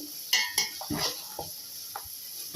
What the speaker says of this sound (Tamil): தக்காளி போட்டுட்டு ஒரு முறை இது மாதிரி நல்லா கலந்துக்கங்க